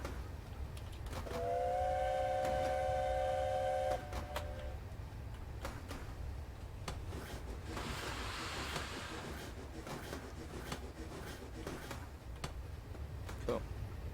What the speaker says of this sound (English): seeing this train coming through